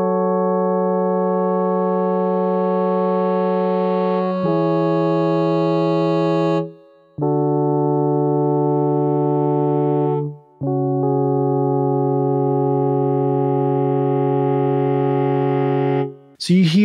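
A sustained, harmonically rich FM synth tone plays in several held notes, with a brighter operator layer swelling in gradually through its slow envelope; no talking.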